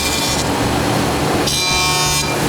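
A wood planer runs steadily, its cut loudening into a bright grinding hiss midway then easing back to a lower mechanical hum.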